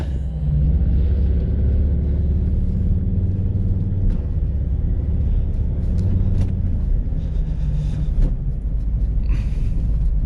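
A 2003 Volvo XC90 on the road, a steady low engine and tyre rumble from inside the cabin, with a few faint knocks and rattles over bumps.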